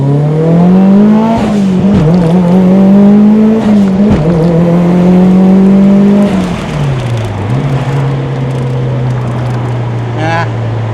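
A Mitsubishi Lancer Evolution 7 drives with its engine loud and close, revving steadily, rising and dipping through gear changes, then settling to a lower drone.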